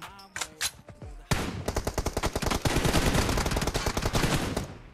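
Video game gunfire: a few separate shots at first, then a dense, loud burst of rapid automatic fire rattling continuously to the end, with no talk over it.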